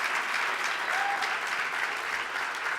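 A gala audience at a national legislative awards event breaks into dense, continuous applause, a broad even roar of many hands clapping at steady volume throughout, with no talking over it.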